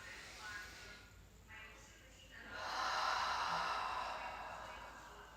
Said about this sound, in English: deep breath in through the nose, and out through the mouth